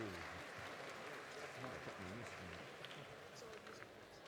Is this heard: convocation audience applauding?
yes